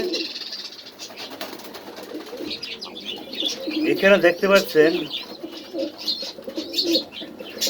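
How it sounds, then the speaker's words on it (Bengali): Iceberg Nila Hyderabadi pigeons cooing at a pigeon farm in Mirpur, Dhaka, a soft warbling coo rising near the middle amid faint chirps, with someone talking over the birds throughout. "নীলা কবুতর, এটা আইসবার নীলা হায়দ্রাবাদি।"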